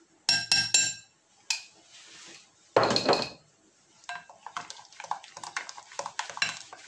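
Black radish and carrot salad with mustard being mixed in a bowl, giving a run of clinking and scraping utensil strokes, some sharp and loud, others rapid and lighter, close up with no talking.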